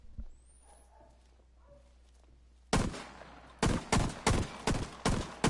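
Silenced UCP 45 pistol firing in a video game: after quiet ambience, a string of about seven suppressed shots rings out in an uneven rhythm, each a sharp thump with a short tail.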